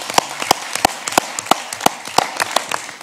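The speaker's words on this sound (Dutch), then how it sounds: "Applaus." Scattered, uneven hand claps at a municipal council meeting in Hardenberg, a sparse sequence of sharp, separate slaps from a small group rather than a full ovation, with no talk over them.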